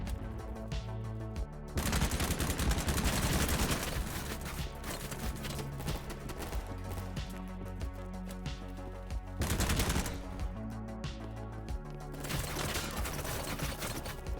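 Dense bursts of automatic gunfire from a night-time firefight in the shooter game Battlebit Remastered, with a Groza rifle in use. The sustained rattling shots are loud and close, swelling into heavier volleys around two and ten seconds.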